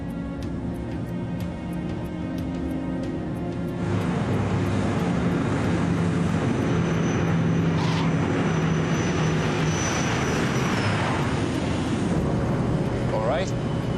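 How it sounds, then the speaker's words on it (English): An airliner lands on the runway at Aberdeen with a loud, continuous roar of engines and rushing air that swells about a third of the way in and stays heavy to the end, with no talk. "The landing was smooth in Aberdeen."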